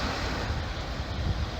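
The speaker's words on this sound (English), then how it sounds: "Oh, this is gonna be so windy, sorry" Steady, loud wind rushing and buffeting outdoors on a beach in Oman, with a low roar of surf underneath; no voices.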